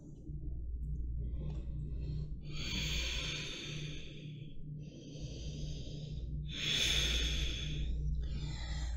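Slow, audible breath exhaled through the nose or mouth as the body folds into a yoga forward bend, airy and close, repeated in two or three long breaths over a low steady hum.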